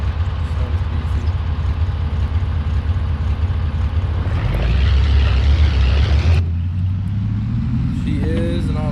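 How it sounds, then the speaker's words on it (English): A 1970s red pickup truck with a three-on-the-tree manual idles in Farming Simulator 25. A loud, beefy low rumble swells into a brief rev midway, then drops back to a steady idle. "Old Red probably sounds like the coolest truck out there anyways."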